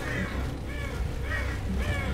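Crows caw inside a cave in the video game Hello Neighbor. Four harsh caws come at a steady rhythm, fairly loud over a constant low rumble of game ambience.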